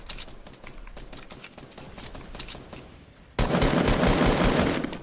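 Rapid automatic gunfire from a Fortnite squad match, bursts of dense repeated shots that jump sharply louder midway and stay intense until the end, with no talk over them.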